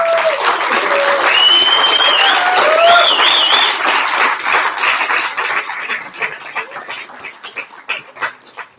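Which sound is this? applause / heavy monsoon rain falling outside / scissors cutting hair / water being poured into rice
applause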